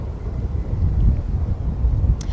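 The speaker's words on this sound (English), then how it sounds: "It's been very windy today." Wind buffets a microphone on an outdoor walk through Peterborough, making a steady low rumbling roar that swells and dips throughout with no speech over it.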